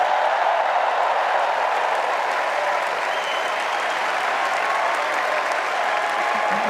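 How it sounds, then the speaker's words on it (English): Large crowd at a political convention applauding for First Lady Jill Biden, a loud, continuous roar of clapping sustained evenly from start to finish. "Let's give a special round of applause to our First Lady,"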